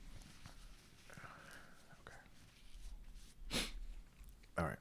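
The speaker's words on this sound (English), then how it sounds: "let me blow my nose" A quiet room with faint murmuring, then two short, loud bursts of nose-blowing near the end, the second sharper than the first.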